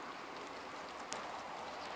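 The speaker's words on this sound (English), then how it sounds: "I need to pack up because it's raining" Steady rain falls outdoors as a dense, even hiss that fills the whole stretch, with a faint tap or two standing out near the middle.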